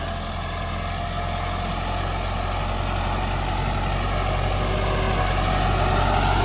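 A tractor pulling a super seeder during wheat sowing, its engine running steadily with a deep, constant low rumble close by, no voices.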